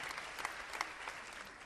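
Faint, steady audience applause on a Spanish comedy show, many hands clapping evenly in the distance.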